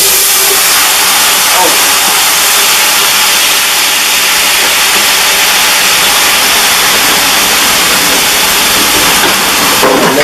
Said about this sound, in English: Let that slime fry out that okra.